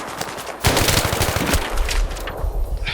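AK-74 automatic fire in Battlefield 3, loud rapid bursts of gunshots crackling close by, continuing steadily for a few seconds with no talk.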